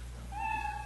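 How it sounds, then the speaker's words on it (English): A single cute kitten meow played as a sound effect on a comedy podcast stage to signal that a comedian's sixty seconds are up, rising clearly over a steady low hum for about half a second. "You know your 60 seconds is up when you hear the sound of a kitten."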